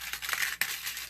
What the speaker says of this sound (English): We are going to cut our circle.